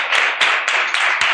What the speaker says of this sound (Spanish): Daros un aplauso a todos.